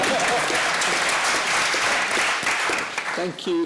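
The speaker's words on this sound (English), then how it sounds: "Let's give him a round of applause for bravery." A conference audience applauds at an electric vehicle energy taskforce report launch in Belfast, steady dense clapping filling the room throughout, with a voice briefly rising near the end.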